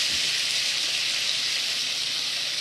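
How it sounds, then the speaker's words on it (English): Cacio e pepe pasta sizzles in a pan of sauce, a steady, soft hiss throughout with no talking. "Okay, so this is probably gonna sizzle a little bit."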